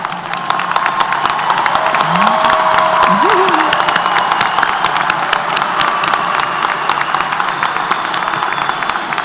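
Loud, sustained applause from a large standing audience at a university commencement ceremony, with scattered cheers and a few raised voices rising above the continuous clapping.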